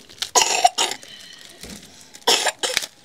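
A young child in a mountain village coughs in several short bursts, two clustered fits separated by a quieter pause, close and fairly loud with no speech.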